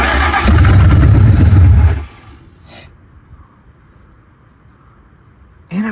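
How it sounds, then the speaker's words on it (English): A loud engine cranking and churning for about two seconds, then cutting off to near silence, with a brief click later. "Or maybe I'll just rotate the engine."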